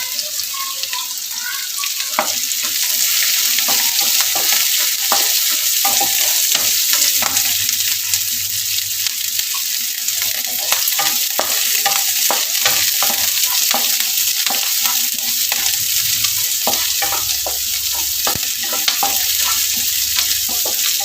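Green chillies and ginger sauté with loud, steady sizzling in a hot pan for rava kichadi, with a spoon stirring and scraping close by throughout.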